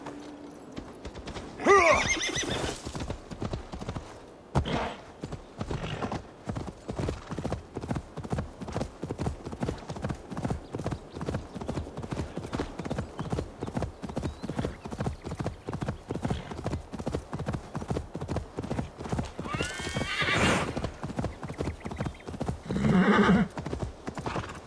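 A horse mount in Assassin's Creed Valhalla trots with steady, rapid clip-clopping hoofbeats for the whole stretch, with loud whinnies breaking out near the start and again toward the end.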